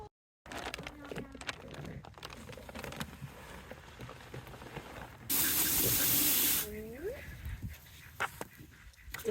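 Water spraying onto seed starting mix in a bucket, a steady hiss under ongoing talk, with one louder sustained burst of spray midway and rustling of the moist soil around it.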